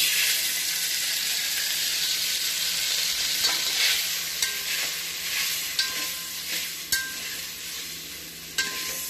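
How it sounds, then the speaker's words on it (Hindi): Boiled, drained pasta being stir-fried in a little oil in a vessel, a continuous bright sizzle with occasional sharp scrapes and knocks from stirring, close and fairly loud. "स्लाइटली स्टर फ्राई करेंगे उसको।"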